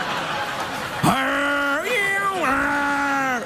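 Human voice imitating a yowling cat on a late-night talk show, a loud drawn-out rising and wavering meow that carries over a murmuring crowd.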